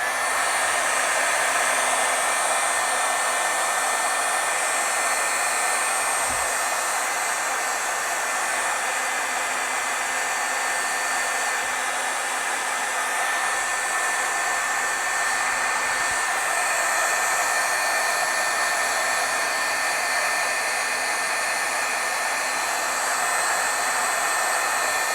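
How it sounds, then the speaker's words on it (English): A heat tool blows steadily and loudly for the whole stretch, a constant whooshing hum with no pauses, as it sets thick stamping ink on thin card stock. "All right, heat setting."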